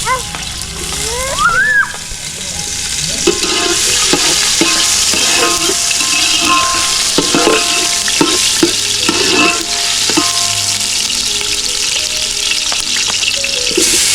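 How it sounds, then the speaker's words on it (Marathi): Tomatoes frying in a pan over a wood-fired village stove for a spicy country chicken curry, with a steady loud sizzle and stirring scrapes throughout and a brief voice near the start. "टोमॅटो पण टाकतो. छान याला मस्त फ्राय होऊन द्यायची."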